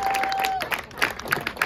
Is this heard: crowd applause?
yes